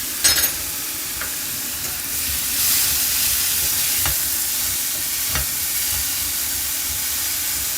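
Butter and clams sizzle in a pan with a steady loud frying hiss throughout, broken by a few brief clinks and stirring scrapes, with no voices.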